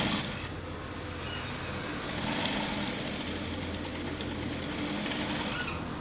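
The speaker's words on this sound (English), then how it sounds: "We do pad stitching by machine." An industrial sewing machine pad stitches the edges of a suit chest pad, a fast, steady mechanical clatter held close and continuous for several seconds, with no speech.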